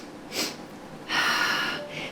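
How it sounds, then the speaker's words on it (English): Breathing during a Pilates ab and oblique workout: a short nasal sniff, then a longer forceful exhale through the nose and a final brief breath, close and clear with no speech. "Sniff, sniff, exhale."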